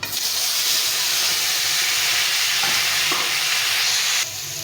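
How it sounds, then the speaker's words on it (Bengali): Pumpkin pieces frying in hot oil with cumin seeds, a loud, dense, continuous sizzle heard up close, with a couple of faint stirring knocks before the hiss eases off at the very end. "এখন আমি যে কুমড়োগুলো মেখে রেখেছিলাম, কুমড়োগুলো দিয়ে দেবো।"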